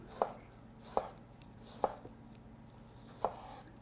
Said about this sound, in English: So now that we have cut the tomato, we are going to add it to a bowl.